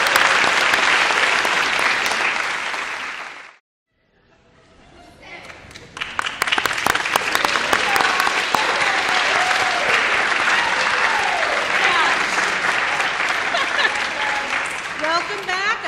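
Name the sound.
audience applauding the ten finalists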